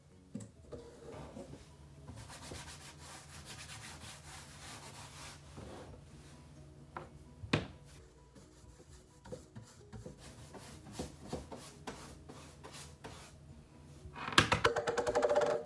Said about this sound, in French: Puis je vais frotter un petit peu pour pouvoir aller enlever le surplus pour laisser juste ce que je veux.